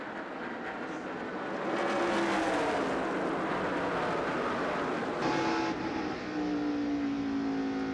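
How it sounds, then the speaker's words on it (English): Race cars roaring at the 1998 Brickyard 400 at Indianapolis, a loud continuous engine drone with shifting pitch as cars pass and exit pit road, no talk. "Jeff Gordon looks as if he will take over the lead exiting pit road"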